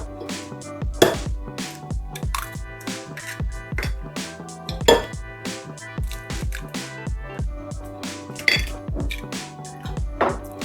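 Eggs, butter and sugar being beaten together in a bowl for brownies, a rapid irregular run of clinking utensil strikes against the bowl, close and crisp, continuing throughout with no talking.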